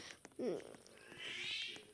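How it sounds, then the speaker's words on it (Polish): A neighbour's cat meows outdoors, a short yowl followed by a longer, drawn-out wail at moderate distance against quiet background noise. "To jest kot mojej sąsiadki, bo ja siedzę na dworze, nagrywam i patrzcie jak kot ryczy."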